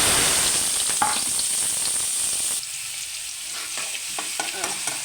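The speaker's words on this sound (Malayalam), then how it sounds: "കടു പൊട്ടിയിട്ടുണ്ട് അതിനകത്തേക്ക് സവാള ഇടാം" Sliced onions dropped into hot oil with popped mustard seeds for a green bean stir-fry, a loud close steady sizzle with occasional stirring scrapes, easing slightly partway through, with no talk.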